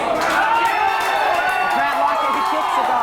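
A football match crowd roaring and cheering in a stadium, a broad, continuous wash of voices that rises and falls throughout, with no one speaking over it.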